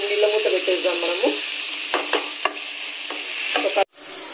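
Ivy gourd fries in a pan as it is stirred, a steady sizzling hiss broken by scraping strokes of a utensil and a sharp knock near the end.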